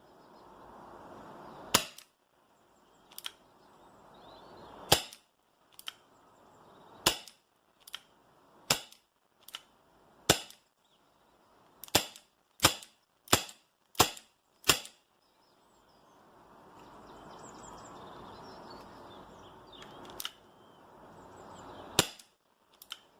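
Tanaka Smith & Wesson M66 Combat Magnum airsoft revolver firing 0.2 gram BBs: about eighteen sharp, loud cracks, spaced irregularly at first, then a fast run of shots, alone against quiet background.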